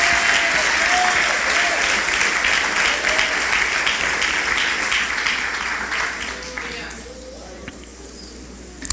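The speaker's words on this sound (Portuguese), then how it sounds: "Pode aplaudir a Jesus" A church congregation applauds loudly for several seconds during a testimony, sustained dense clapping that gradually fades toward the end, with a voice speaking over it.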